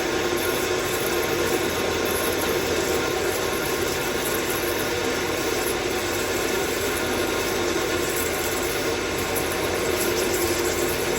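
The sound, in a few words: lathe parting cut with PWT Multifix holder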